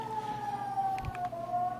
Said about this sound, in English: And the sound of sirens don't help in it.